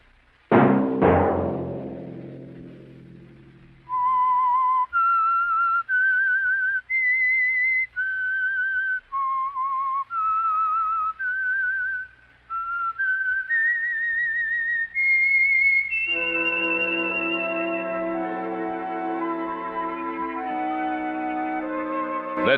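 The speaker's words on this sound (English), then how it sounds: "Let that whistle be your signal for the Whistler each Sunday night at this same time." A solo whistled melody serves as the theme signal of The Whistler radio show. Clear, sustained notes follow one another at a steady pace after a short opening chord, and a soft orchestral backing joins near the end.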